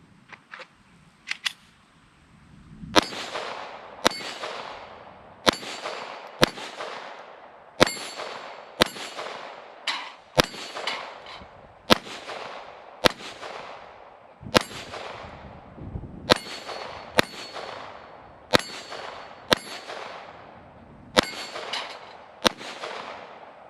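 A Taurus TX22 .22 pistol fires paced shots at steel targets outdoors, each crack followed by a bright metallic ring that decays; roughly a dozen evenly spaced hits in steady pairs.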